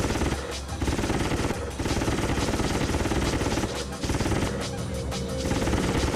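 Spaceship cannons fire in rapid sustained bursts in a PS1 space combat dogfighting game, dense loud crackling gunfire with brief pauses between volleys.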